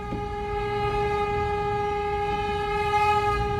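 A vehicle horn blares in one long, steady sustained tone throughout, loud and close, as a car speeds alongside on the road.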